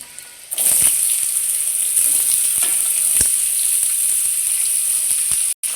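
Steady loud sizzling as watermelon, potato and pumpkin peels are fried in hot oil with green chillies and cumin, with occasional stirring clinks and spatters throughout.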